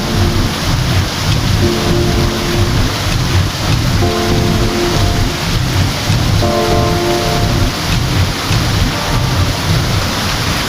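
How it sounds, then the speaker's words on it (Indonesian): Curug Juneng waterfall at Karangsalam, Baturaden pours down high rocks in a loud, continuous roaring rush of falling water, with no talk. "Kita bisa lihat air mengalir menuruni bebatuan yang cukup tinggi guys."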